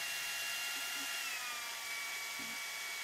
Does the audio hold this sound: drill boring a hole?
yes